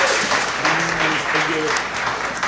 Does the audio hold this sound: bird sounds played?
no